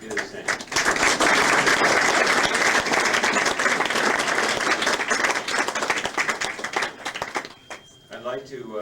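Audience applause at a 1997 University of Utah high school computing institute event, dense sustained clapping from many hands that thins out and stops near the end, loud and close.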